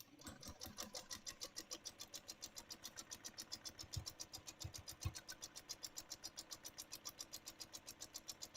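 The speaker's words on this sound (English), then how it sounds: "Now we can sew these half triangles." Sewing machine stitching half-square triangles for a quilt block, a rapid, even mechanical chatter of needle strokes running steadily up close, with a couple of sharp knocks partway through and no speech.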